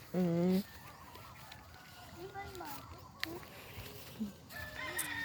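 A rooster crows once at the start, loud and close, followed by background chatter and talk.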